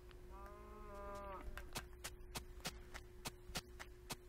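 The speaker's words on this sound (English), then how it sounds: "Is that a cow?" A Minecraft cow lets out one low, droning moo over a steady electrical hum, followed by a run of evenly spaced sharp clicks.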